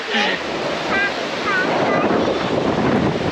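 Sea waves wash onto the shore at Hua Hin beach in a continuous surf roar roughened by wind buffeting the microphone, with a voice heard briefly near the start.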